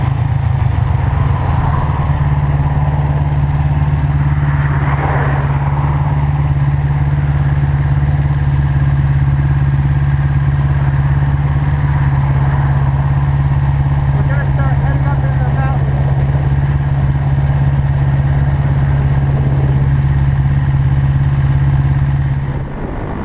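A Kawasaki Ninja 250 motorcycle ridden on the road, its engine holding a steady loud drone under wind noise while a rider talks over it.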